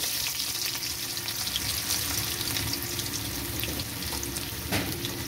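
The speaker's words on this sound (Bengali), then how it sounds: "আলুটা একটু ভেজে নেব।" Potato pieces frying in oil left over from frying fish, a steady close sizzle running throughout with light clinks of stirring and no talk.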